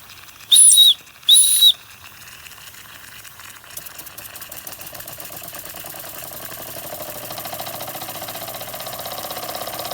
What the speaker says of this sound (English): This is the Empire number 92 engine, made by the Metalware Company in Two Rivers, Wisconsin.